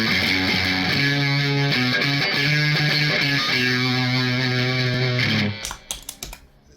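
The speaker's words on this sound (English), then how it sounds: "it's maybe more distortion than anyone needs, but it's nice to have options" An electric guitar plays sustained chords through a board of distortion effect pedals, thick and loud for about five seconds, then cuts to a few scratchy muted hits as it stops.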